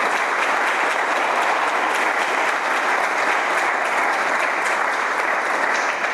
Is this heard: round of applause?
yes